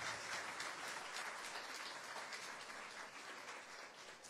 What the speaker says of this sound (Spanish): el reconocimiento y un fuerte aplauso a las empresas auspiciantes